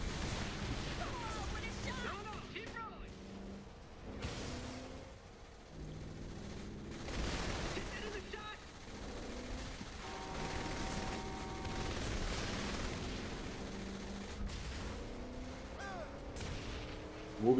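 Repeated grenade blasts and gunfire in the Saints Row 3 video game, with loud booming explosions recurring through the stretch over a dense bed of game sound effects and music.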